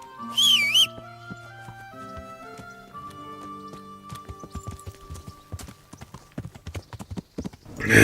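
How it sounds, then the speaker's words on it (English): Horse hooves clip-clop in Kingdom Come: Deliverance, irregular hoofbeats stepping over game music, with a brief high whinny near the start and another loud burst at the end. "It looks kind of cool seeing the horse start to back away."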